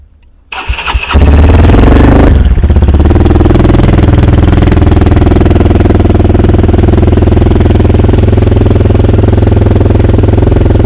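A Hero motorcycle engine cold-starting on a cold morning: a brief crank catches within a second or two, then settles into a loud, close, steady idle that runs on alone.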